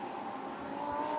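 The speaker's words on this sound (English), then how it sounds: "Karim Ogier, in his dual liveried car, black on one side, white on the other, goes through." Lamborghini Super Trofeo race car on the Barcelona circuit passing at a distance, a steady faint engine tone that swells slightly toward the end, with no talk.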